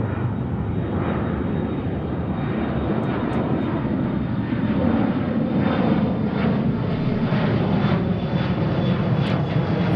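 An Alaska Airlines Boeing 787 heavy jet rolls for takeoff on runway 34 right at Seattle, its engines giving a steady, loud broadband roar that holds strong and unbroken throughout.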